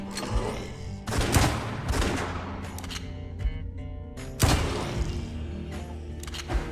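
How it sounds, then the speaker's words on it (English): Bursts of rapid gunfire in the video game West of Dead erupt in two loud volleys, separated by scattered single shots and mechanical clicks. "The gunshots are loud and responsive."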